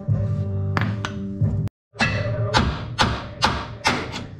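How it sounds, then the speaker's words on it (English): Hammer blows on a tie rod end to shock it loose while fitting a 3-inch lift suspension to a Nissan GU Patrol, a series of loud close metallic thuds with ringing overtones, about eight strikes at uneven intervals. "hit the side of the boot, that shocks it all, keep hitting the bottom up, hit the side, hit the bottom, and you can shock it out."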